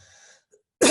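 A single sharp cough lands close into a microphone at the very end, loud and abrupt after near silence.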